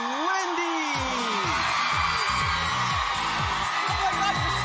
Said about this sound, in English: Oh my God, you're screaming.